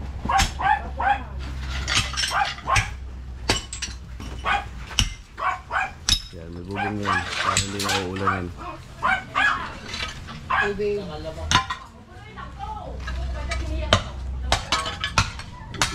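A dog barks repeatedly near its cage while the cage is being cleaned, sharp barks recurring throughout under steady talk with some clattering of objects.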